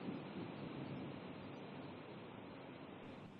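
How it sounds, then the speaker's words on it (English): Strong, blustery wind, heard from inside a sunroom, makes a faint, continuous broadband roar with no gaps and no voices. "ooh, listen to that wind. It is a blustery one today."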